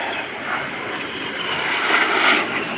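A very small aircraft flies an air display overhead, its engine a steady, moderately distant drone that swells slightly as it passes.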